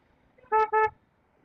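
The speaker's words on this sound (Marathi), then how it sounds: "हे लोक क्रॉस करतायत म्हणून थोडासा ट्रॅफिक आहे." Two short car horn honks in quick succession sound in road traffic at an intersection on the NH66 Mumbai-Goa highway, loud and close over faint background.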